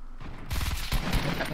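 A quick burst of several gunshots in Fortnite during a tournament match, sharp close cracks packed into under a second, with a player's voice briefly under them.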